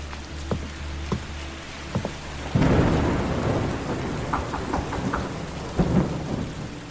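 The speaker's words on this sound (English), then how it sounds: "lightning lit up the sky. The trees making a jagged display through the rain." A thunderstorm with heavy rain: several sharp thunder cracks come first, then a loud, close roll of thunder breaks out over a steady hiss of downpour, and further rumbles follow as the rain keeps falling.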